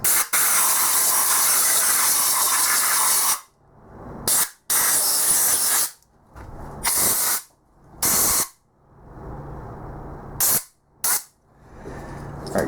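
Bursts of compressed air blasting out a bare aluminum cylinder head: a long loud hiss at first, then a series of shorter sharp blasts separated by silences, close and harsh.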